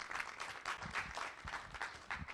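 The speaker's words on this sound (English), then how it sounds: "how about another round of applause for Sarah for pulling this all together?" An audience at a panel talk on mental illness and imprisonment applauds in a short, steady round of clapping, moderately quiet and without speech.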